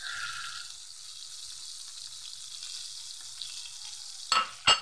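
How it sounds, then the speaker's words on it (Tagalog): Food frying in a pan gives a steady hissing sizzle at moderate level, fading slightly after the first half second, then two sharp clattering knocks near the end, with no talking. "Nag-fried tayo."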